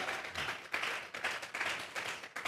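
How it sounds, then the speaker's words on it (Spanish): Church congregation clapping together in an offering of applause, a dense, steady burst of many hands clapping in waves, fairly distant and reverberant, with no talk over it. "Vamos a regalarle ofrenda de palmas al Dios de la gloria."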